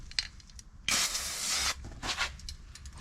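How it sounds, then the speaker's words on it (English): A spray gun gives a test spray during auto body work on a quarter panel of a Nissan Gloria. Short hissing puffs come first, then a loud, steady blast of about a second, then softer bursts close by. "let's give this one another test spray"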